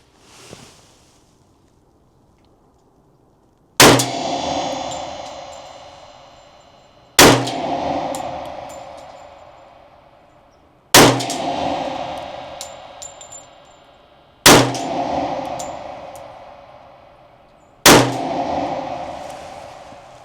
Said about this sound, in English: We're going to shoot 5 rounds into the target with this gun.